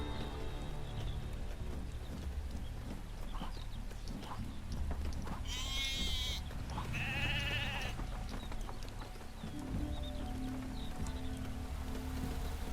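Sheep bleat in the LEGO Marvel Super Heroes 2 video game, two loud drawn-out bleats standing out over a steady bed of game music and ambience.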